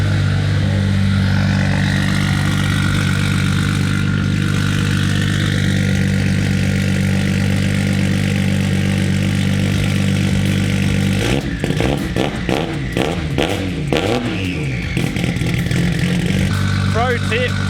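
Nissan R32 GTR engine with a titanium straight pipe idling loudly and steadily at close range, a deep rumble that turns into clattering, uneven pulses partway through, with talk over part of it.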